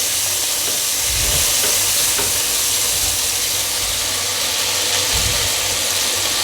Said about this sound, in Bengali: চিংড়ি মাছ ভাজতে খুব একটা সময় লাগে না, অল্প সময় নেড়ে ছেড়ে আমি চিংড়ি মাছটা ভেজে তুলে নেব।